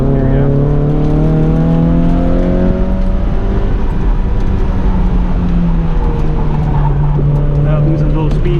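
A Mazda Miata drives at speed on a track, its engine droning loud and steady with pitch sliding down and up through corners, while a voice talks over it.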